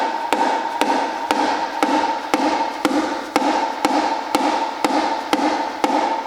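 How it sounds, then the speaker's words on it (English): A mallet strikes the transmission of a 1996 Honda Accord, separated from the engine and propped on a board. Roughly a dozen sharp metallic taps ring out at an even, steady pace, close by and alone. "tapping on the transmission like this"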